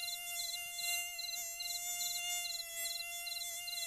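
A mosquito buzzes in a thin, high-pitched whine, holding steady and close while faint pulsing chirps repeat beneath it.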